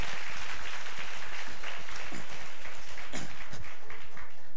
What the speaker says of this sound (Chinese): 我们给 Bless 再次一个掌声好不好？